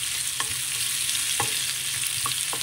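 A spice mixture sizzles in hot ghee for Sri Lankan sambar as it is stirred, a constant frying hiss punctuated by three soft scraping strokes, close and without speech.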